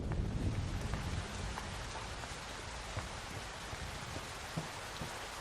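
Steady rain falls throughout, a dense even wash with scattered drop impacts and a slight swell at the start, with no voices present.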